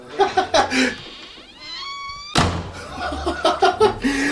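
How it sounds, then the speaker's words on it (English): A creepy door in the Selma Mansion creaks with a rising, whining tone and then thuds shut with a sharp heavy impact, framed by close talking before and after. "how about that creepy door, huh?"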